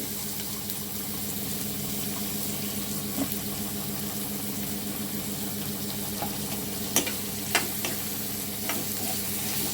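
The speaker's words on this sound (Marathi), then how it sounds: "अशा तऱ्हेने हा कांदा फ्राय झालेला आहे" Chopped onion sizzles steadily in hot oil in a pan, being fried for a vegetable tempering; the frying hiss stays constant and close, broken by a few light clinks of stirring.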